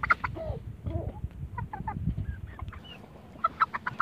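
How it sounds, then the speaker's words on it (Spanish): Three-month-old Chilean native chickens cluck and peep close by in a lively, overlapping flock, with short repeated calls and squawks throughout. "Están muy grandes ya los pollos"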